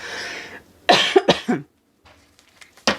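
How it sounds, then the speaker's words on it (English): A few sharp coughs close up, one short burst followed by a couple more, with a quiet gap before a final cough. "I'm going to cough."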